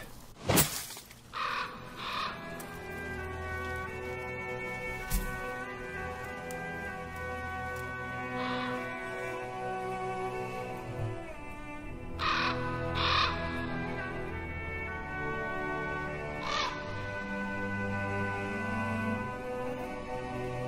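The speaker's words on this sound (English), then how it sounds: "A crow, my dear." Crow caws from the Pillars of the Earth video game, several harsh calls spaced across the clip, the loudest near the start and a few more later, over a steady low musical or ambient bed.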